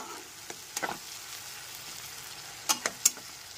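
Onion, ginger, garlic and tomato paste frying with spices in a pan over a medium gas flame, a soft steady sizzle broken by a few sharp spoon scrapes and stirring clicks, with no voices.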